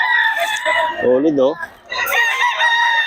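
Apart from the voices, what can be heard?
roosters crowing at a poultry sale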